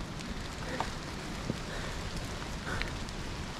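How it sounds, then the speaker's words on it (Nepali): Light drizzle patters steadily on a mountain trail on the Gosaikunda trek, a soft, even hiss with a few scattered drop taps close by. "पानी सिन सिन सिन सिन छ."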